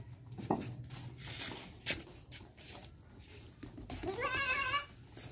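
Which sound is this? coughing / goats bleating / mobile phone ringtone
goats bleating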